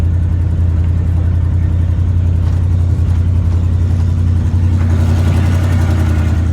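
A 1983 Dodge D150 Prospector pickup truck, parked for 25 years, idles loudly and close with a steady low rumbling engine drone, slight unevenness in the running throughout.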